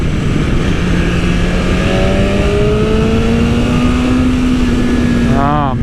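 A 2020 BMW S1000RR M superbike pulls hard under acceleration, its engine whine climbing steadily in pitch over heavy, constant wind roar, ending with a rapid rising burst as it revs on.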